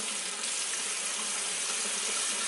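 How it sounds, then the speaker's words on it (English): Warm water runs steadily from a tap into a brush cleansing palette, a continuous close-up splashing hiss with no talking over it. "add a little warm water."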